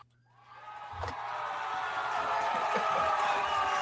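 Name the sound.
crowd cheering sound effect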